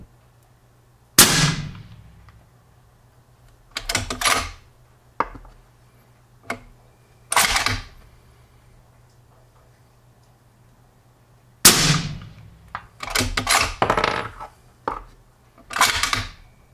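Rifle shots firing 32-grain Hornady V-MAX bullets ring out as sharp, loud cracks. Several come spaced apart and a few arrive in quick clusters, each with a short decaying tail over a low steady hum.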